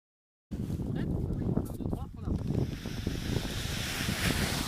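Wind gusting at the seaside on a sunny day, a steady close roar buffeting the microphone with a surf-like wash underneath, starting abruptly after a brief silence and holding on throughout.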